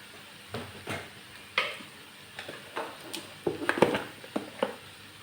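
Chicken kurma spices, turmeric and chilli powder, hitting a hot pan: soft sizzling with a run of sharp spoon-scrape and stirring clicks, close and fairly quiet, no voices.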